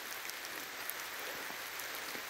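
Steady rain falls on a hillside street, a dense even hiss of drops with faint scattered pattering throughout, no voices.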